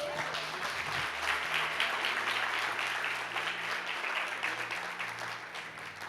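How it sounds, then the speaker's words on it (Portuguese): Church congregation applauding during a Portuguese-language sermon, a steady broad wash of clapping lasting several seconds, with a low sustained musical tone underneath and no voices standing out. "Você pode aplaudir a Deus por isso?"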